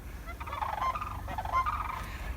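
Sandhill cranes call from nearby in the Northwest Territories wilderness, giving repeated rolling, rattling bugles in two loose bursts over a low outdoor rumble.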